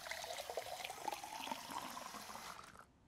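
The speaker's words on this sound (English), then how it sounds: "Fresh from the tap." Water running from a tap in the video game Fall of Porcupine, a steady rushing splash that continues for nearly three seconds before cutting off abruptly, heard alone without any talking.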